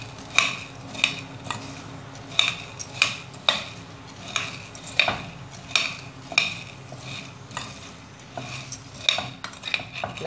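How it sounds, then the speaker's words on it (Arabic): Food browning in a frying pan while a metal spoon stirs it, giving repeated sharp clinks and scrapes against the pan over a faint sizzle, close up with no voices. "هكمل بقى التقليب فيها كده هو لحد ما تحمر بيا"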